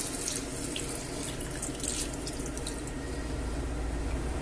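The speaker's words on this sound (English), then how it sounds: "we'll add half a litre of water" Half a litre of water pours steadily into a soup pot with stock powder, a continuous close splashing rush with no pauses.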